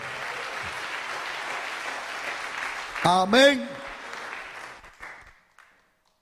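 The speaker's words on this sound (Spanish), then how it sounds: "Den un aplauso al Señor" A church congregation applauds the Lord during a Spanish-language sermon: sustained crowd clapping for about three seconds, then a voice speaks briefly as the sound fades to silence.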